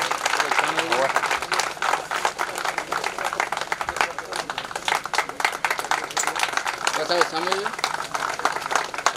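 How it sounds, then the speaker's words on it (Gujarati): Stage event honouring a guest: sustained, dense clapping from a large crowd runs throughout, with a voice speaking briefly over it. "આવો વાલીબા ઉપર આવો. એટલે એમનો જે ભાવ હતો કચ્છ પ્રત્યેનો, એ આજે આપણે જોઈએ છીએ. તાળીઓથી વધાવીએ."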